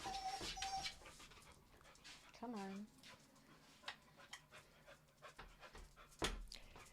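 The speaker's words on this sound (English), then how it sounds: "Ooh, I hear a dog." A dog pants and whimpers close by, quick breathy huffs broken by a rising whine, while a person says a few words under it.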